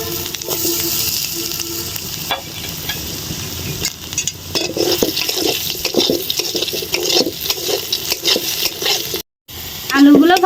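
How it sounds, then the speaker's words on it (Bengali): Potato pieces frying in the leftover oil from fried tengra fish, with a continuous sizzle broken by stirring scrapes and clatter of a utensil in the pan, close and fairly loud. "এই তেলে আমি আলুগুলো ভেজে নিচ্ছি"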